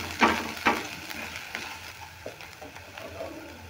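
Ground turmeric and salt sizzle in a spice mix as it is fried and stirred, with a few sharp scrapes of a spatula standing out over a low, steady frying hiss.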